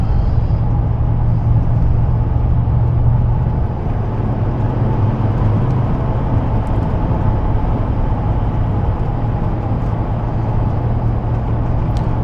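A Mercedes-Benz G550 4x4 Squared drives along with a steady low engine and road rumble, constant and close inside the cabin, no talking.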